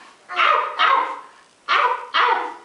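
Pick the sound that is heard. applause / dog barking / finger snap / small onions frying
dog barking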